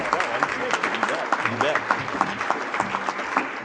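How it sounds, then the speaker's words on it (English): An audience at an association's annual report meeting claps in a round of applause, a dense, moderately loud patter of hands that carries on throughout with a voice talking over it. "if you wouldn't mind joining me in a round of applause"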